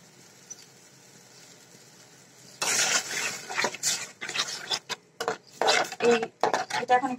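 Spoon scraping and clinking in a cooking pot as chili powder, salt and spices are sautéed, a burst of irregular stirring clatter and sizzle starting partway through after a quiet stretch, close and moderately loud.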